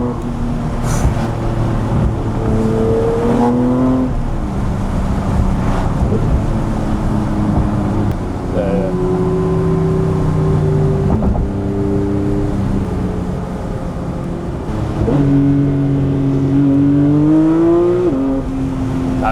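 A supercar in manual mode accelerating hard along backroads, its engine rising and falling through repeated revs and gear changes over steady wind and road noise, heard from inside the cabin.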